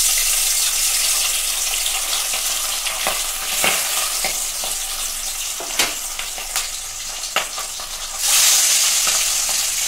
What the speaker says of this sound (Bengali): আমি দুটো দুটো করে মাছ ভেজে নিচ্ছি।